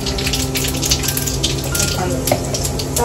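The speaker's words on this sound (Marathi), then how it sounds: "आता तेल तापलंय, पण यामध्ये थोडस जिरा टाकू" Cumin seeds sizzling in hot oil over a low gas flame for stuffed brinjal, a loud close crackling hiss with a faint steady hum underneath.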